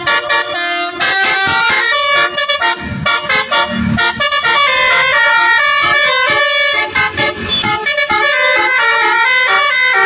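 A Persita Tangerang bus blasts a loud, musical multi-tone horn in rapid repeated patterns, almost continuous for ten seconds with short gaps, close and dominant over faint traffic.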